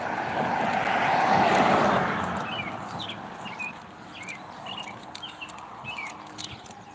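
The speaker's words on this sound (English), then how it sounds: "You hear the birds chirping." Small birds chirp in short, scattered calls in a cemetery, moderately distant, after a broad rumble like a passing aircraft fades away.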